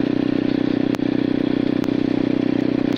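Nitro 125 small motorcycle being ridden, its engine giving a steady, loud, buzzing drone throughout with a few brief clicks or knocks over the running note.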